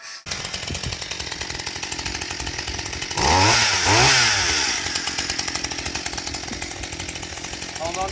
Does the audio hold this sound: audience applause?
no